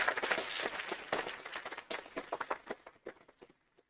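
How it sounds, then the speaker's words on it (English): Applause from the audience at a county board of supervisors meeting, honoring a retiring staff member: dense clapping that thins out into scattered individual claps and fades to near silence by the end. "We give her a round of applause"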